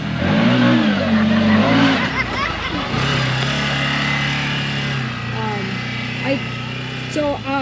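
A 2023 CFMoto Uforce 1000 side-by-side drives a small circle on rural land, its engine rumbling and revving steadily close by, with a voice talking over the motor at the start.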